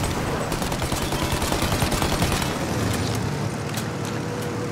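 Rapid gunfire from the video game Mafia Definitive Edition rattles steadily at a plane that is taking off, dense and sustained over a rumbling engine and vehicle noise for nearly five seconds.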